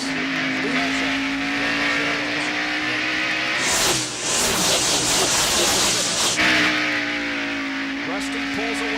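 NASCAR stock cars race at Bristol Motor Speedway in the 1993 Food City 500, a loud continuous engine roar with steady pitched drone, a brief burst of broadband rushing noise midway as cars pass, and commentary talking over throughout.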